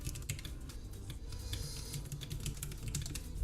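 Computer keyboard typing, a rapid run of light clicky keystrokes in an uneven rhythm, close and continuous over a low background hum.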